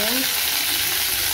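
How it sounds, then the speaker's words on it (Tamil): Onions fry in hot oil with mustard seeds, cumin and dried chillies, giving a steady, close sizzling hiss without pause. "வெங்காயம் வதங்கினது கொஞ்சம் போதும், லைட்டாக வதங்கினா போதும்"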